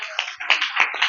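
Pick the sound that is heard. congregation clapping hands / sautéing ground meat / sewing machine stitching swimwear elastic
congregation clapping hands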